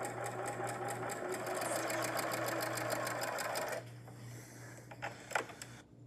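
A Janome sewing machine quilts parallel stitch lines on a tote bag, running fast with a rapid, even clatter of stitches that abruptly stops, followed by a few small clicks and handling sounds.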